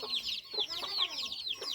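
Chickens cluck in quick repeated bursts, several birds close by, the calls overlapping in a busy, uneven rhythm.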